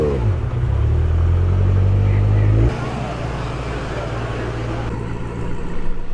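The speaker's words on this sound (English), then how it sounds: "We got a Charger Hellcat on slicks." A Dodge Charger Hellcat on slicks rumbles past at a car show, a loud low engine drone that drops in pitch partway through as it moves away, with crowd noise underneath.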